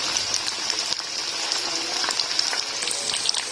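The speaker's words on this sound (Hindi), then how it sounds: "एक साइड को तकरीबन हमारे 2 से 3 मिनट फ्राई होने में लगे हैं" Chicken drumsticks frying in a pan of hot oil, a loud, even, continuous sizzle with crackling spatters throughout.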